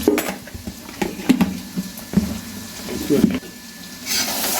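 Three spoons of coriander powder sautéed in a pan for a beef dish: soft scraping and stirring with scattered light clinks of a utensil against the pan, close and fairly quiet, with a brief hissing swell near the end.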